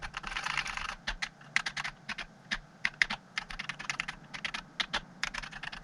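Keys on a BBC Master 8-bit microcomputer keyboard pressed one after another in an uneven run of sharp clicks, a dense flurry at first then separate taps, close and clear.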